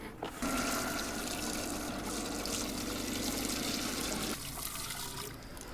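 A bucket of water standing in for slurry or priming agent is poured into the hopper of an HP20T4 pump. It makes a steady, splashy gush for about four seconds, then tapers off to a quieter trickle.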